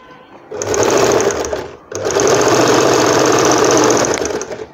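A sewing machine stitches beading around an umbrella frock in two loud, steady runs with a brief pause between them, the needle whirring close and continuous.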